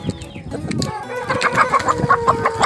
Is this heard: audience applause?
no